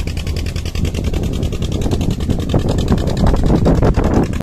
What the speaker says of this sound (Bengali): শাখাই ঘাট থেকে একটা নৌকা ছেড়েছে